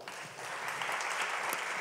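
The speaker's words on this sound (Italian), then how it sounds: "Facciamo un grande applauso." Audience applause at a regional artists' competition final on stage in Liguria, a steady wash of many hands clapping at moderate distance, sustained evenly throughout without talk.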